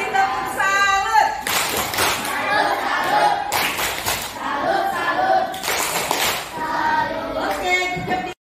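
An audience at an academic coaching supervision session in Lubuklinggau gives a loud 'tepuk salut' cheer clap in repeated rhythmic bursts, mixed with voices chanting and speaking throughout.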